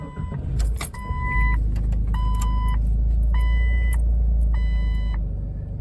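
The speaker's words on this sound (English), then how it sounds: "But I'm going to go ahead and start up the car, see if that fixed my problem." A Jeep Cherokee is started after an oil pressure sender pigtail repair: repeated warning chimes sound in short regular bursts over a loud, steady engine rumble that begins after a brief cranking burst.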